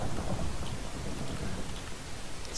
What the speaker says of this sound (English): it's storms brewing up there